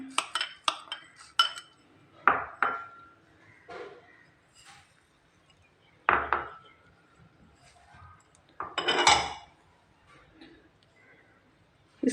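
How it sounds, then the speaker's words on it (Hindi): Whole spices go into lemon and chilli pickle, heard as intermittent clinks, taps and scrapes of utensils on a dish, with quiet gaps between the bursts. "मैं इसके अंदर मसाले ऐड करती हूँ।"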